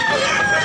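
A stag rooster of the Busiprin line, a young fighting cock, crows in a brief, dense burst with harmonic bands, fairly close and filling the whole moment without talk.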